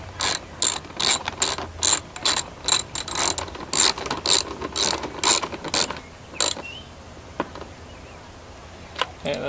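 A ratchet tightens the top bolt on a Baja Designs passenger peg mounted to a dirt bike, heard close and loud as a steady run of quick clicking bursts that stops partway through, followed by a few light knocks.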